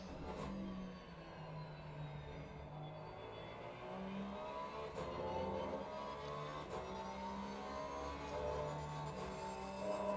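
A BMW race car engine in a racing video game at Silverstone during a 12-hour endurance event, droning steadily for the whole stretch with rising and falling pitch as it accelerates, plus faint other cars, and no talk.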